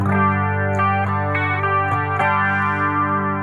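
An electric guitar through distortion, chorus and delay, switched on together by a BOSS ES-8 pedal switcher, rings out sustained, thick chords with a few picked accents, loud and close with no talk.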